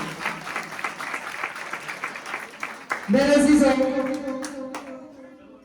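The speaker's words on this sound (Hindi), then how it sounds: "अब यीशु के जलाल के लिए जोर से ताली दो" A church congregation claps loudly and steadily at a Christian worship service, a sustained wash of many hands, while someone speaks over it and then sings or calls out a drawn tone near the end.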